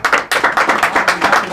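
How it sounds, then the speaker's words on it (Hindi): An audience claps rhythmically at a political party event, loud and close, with a fast, even run of roughly ten sharp handclaps in unison. "स्टेटमेंट के समय हाथ ताली मत बजाना भाई"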